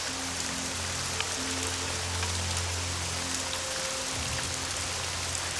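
Rain falling steadily with a constant hiss spread across the clip, under a low tonal hum and some faint background noise, with no one speaking.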